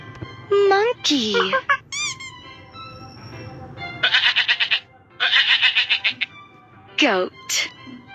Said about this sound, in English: A-G-O-A-T. Goat.